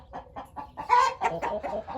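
A large, heavy-bodied rooster clucks close by in a yard, a few soft clucks building into a louder, busier run of throaty calls over two seconds, heard alone without talk.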